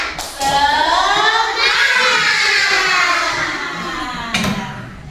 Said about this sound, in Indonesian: ayo bersama-sama tepuk semangat